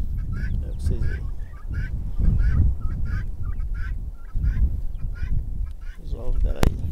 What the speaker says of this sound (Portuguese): Umas franguinhas caipirão aí, pescoço pelado.